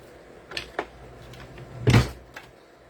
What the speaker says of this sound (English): You hear my drawer closing